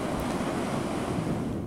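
Water pours over the icy Lahn weir in Gießen in winter, a dense continuous roar of rushing water, loud and steady throughout with no voices.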